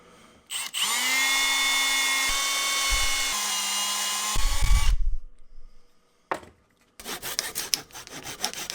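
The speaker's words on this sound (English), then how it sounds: "These holes needed to be drilled from the top of this, which is actually the bottom, through into the step." A power drill bores holes through a cherry wood footrest into its step, a loud steady whine for about four seconds that bogs down into a rough grinding burst, followed by quiet knocks and handling.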